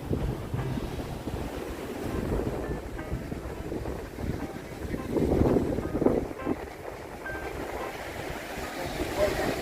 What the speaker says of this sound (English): While enjoying the water and listening to the relaxing waves